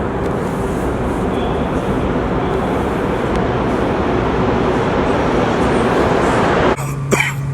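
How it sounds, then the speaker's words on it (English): A subway train rumbles loudly and continuously through a station, a dense steady roar that cuts off abruptly near the end, followed by brief clatter. "so it's 3:29 and I'm waiting for the subway."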